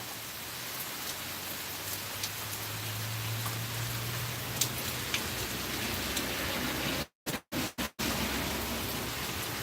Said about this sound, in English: Obviously, YouTube don't like the rain.